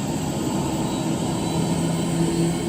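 A plane engine heard from outside the aircraft gives a steady, loud, droning roar with a constant low hum, unbroken and without any voices.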